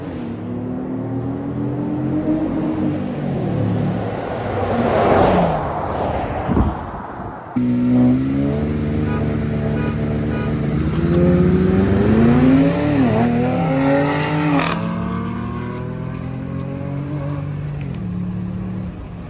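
A lifted 2nd gen Toyota Tundra pickup accelerating hard with its engine roaring and rising in pitch, loud and steady through most of the run, with a gear change partway and no talk over it.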